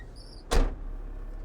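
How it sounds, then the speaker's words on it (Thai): The cab door of a used Kobelco SK135 excavator imported from Japan shuts with one sharp, close slam, followed by a low steady engine hum. "ขออนุญาตปิดประตู"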